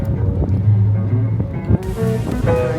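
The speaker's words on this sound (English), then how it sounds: "We have officially set sail on our dinner cruise" A dinner cruise boat sails on the water off the Gold Coast, with a steady low engine rumble, wind buffeting the microphone and water washing along the hull, all continuous and fairly loud.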